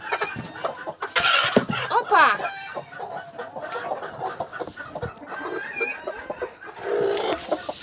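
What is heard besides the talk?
broody hen clucking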